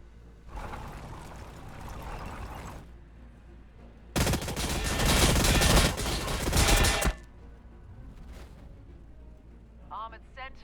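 A tank in the Warhammer Battlesector video game fires on warriors. Two long, heavy bursts of roaring, rumbling gunfire rise loud and then cut off, with quieter game ambience and faint voice-like sounds between and after.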